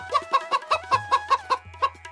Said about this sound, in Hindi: सुबह होते ही उसने मुर्गी को पकड़ लिया।